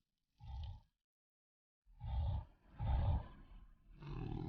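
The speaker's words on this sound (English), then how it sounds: "I'm hearing a lot of grunting." Monsters in the video game Quake Remastered grunting: three or four deep, rough growling bursts separated by short silences, fairly loud and free of talk.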